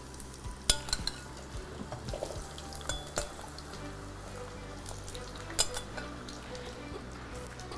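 Potatoes dropped into hot oil in a pan for eggplant moussaka, sizzling and frying steadily, with scattered utensil clinks and stirring knocks over a soft continuous hiss.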